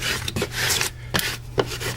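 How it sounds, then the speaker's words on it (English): A wall decal is burnished onto a dirty shop wall with a tool, giving quick, close scraping rubs in short uneven strokes, alone with no talk. "Burnish it down."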